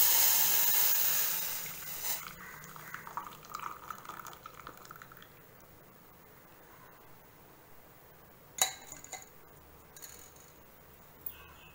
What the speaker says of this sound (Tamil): இப்போ இதை வடிகட்டிக்கலாம்.